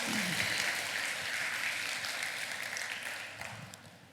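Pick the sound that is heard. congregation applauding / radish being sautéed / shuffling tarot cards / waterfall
congregation applauding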